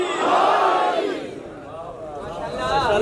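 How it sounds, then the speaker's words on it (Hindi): A crowd at a Shia majlis at an imambargah shouts religious slogans together in a loud, swelling collective response that dips briefly and then rises again. "सारे मिलके नाराए रिसालत, अली हक नाराए हैदरी।"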